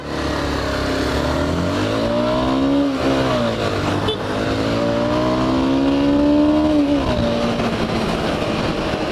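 A Motoran CBS 150 Balancer motorcycle engine revs loud and close, pitch sweeping up and falling back twice in a steady drone, with no talk over it.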